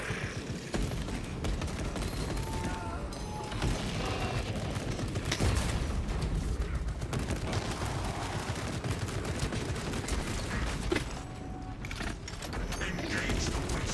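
Turret gunfire in the Guardsman video game, dense sustained bursts of shots and mechanical clatter running loud and continuous throughout, with a brief dip near the end and faint voices underneath.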